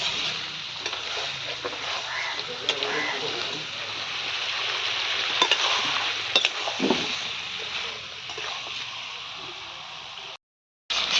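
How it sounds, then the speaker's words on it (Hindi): Chicken cooks in a pan on a stove with a continuous moderate sizzle and occasional stirring scrapes, while a person talks over it. "ये देखिए मेरा चिकन बन रहा है, अभी चूल्हे पे चिकन बन रहा है।"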